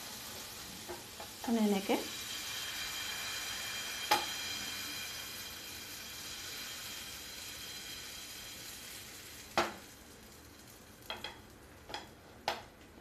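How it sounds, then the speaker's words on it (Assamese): Patishapta batter sizzling in a hot pan, a faint steady hiss with a few scattered clicks and scrapes of utensils, and a brief word spoken. "এতিয়া মই ইয়াত এখেটা বেটাৰ দি দিম"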